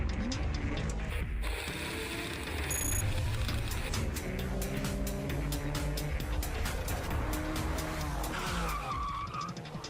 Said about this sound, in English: We're driving a car with a transmission that Porsche calls a PDK